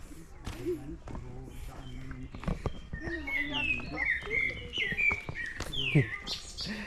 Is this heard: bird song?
yes